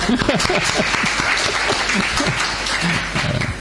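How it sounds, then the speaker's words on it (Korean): Congregation in a church applauding the tenor section of the choir during a Sunday service, steady dense clapping at close range for a few seconds with some voices mixed in. "테너 한번 박수 한번 해주세요"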